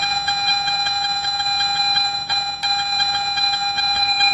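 A Garrett metal detector sweeps over a buried target, giving a loud, steady high-pitched target tone with a faint rhythmic pulsing as the coil wiggles back and forth.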